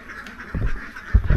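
Itik Pinas ducks on a duck farm in Toril, Davao City quack in short bursts over a low background murmur, with a couple of louder calls toward the end.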